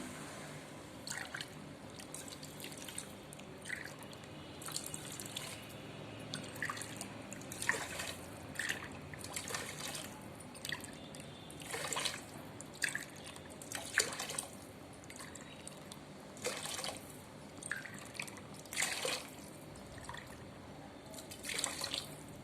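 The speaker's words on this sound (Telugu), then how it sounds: "ఇందులో వాటర్ యాడ్ చేసుకోవాలి. రైస్కి సరిపడా వాటర్." Water trickles and splashes steadily into a cooking pot for vegetable biryani rice, with intermittent louder pours and drips over a low background hum.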